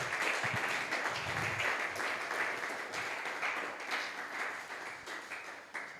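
A church congregation applauding the Lord, a sustained burst of many hands clapping that gradually tapers, with faint voices mixed in.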